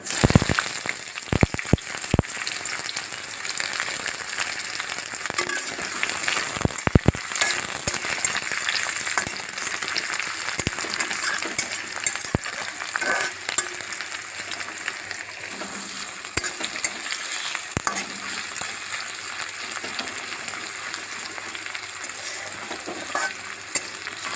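Onions frying steadily in hot oil: a constant, close sizzle with occasional clicks and scrapes of stirring, no voices.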